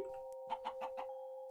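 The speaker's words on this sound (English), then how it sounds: "Hey, little chicken. Cheep, cheep." A chicken in the video game Minecraft gives a quick run of four short, evenly spaced clucks over a steady electronic hum, fairly close and not especially loud, with no talking.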